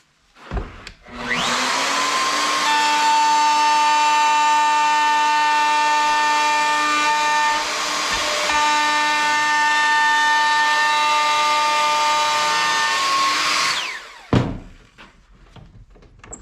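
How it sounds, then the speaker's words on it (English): A handheld router makes one continuous pass along wooden bunk bed stairs, a loud steady whine with bright harmonics that spins up, holds for about twelve seconds, then winds down with a clunk at the end. "One quick pass with the router, and it gives me a little bit of sanding"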